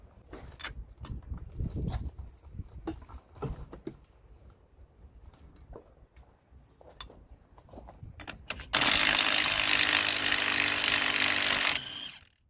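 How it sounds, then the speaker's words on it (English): Metal tool clunks and scrapes from a 30mm socket and breaker bar working the drive shaft nut on a Renault Kangoo, followed by a loud, steady, harsh burst lasting about three seconds. "In order to remove this nut here, we're gonna be using a 30mm socket and the breaker bar."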